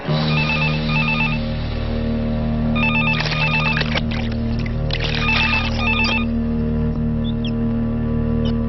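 A telephone rings in repeated short bursts of electronic trilling over a constant low hum, sounding close and clear, then goes quiet toward the end, with no talking.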